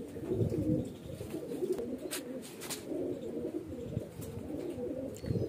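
Highflyer pigeons coo in low, rolling murmurs that repeat steadily at moderate distance, with faint chirps scattered through.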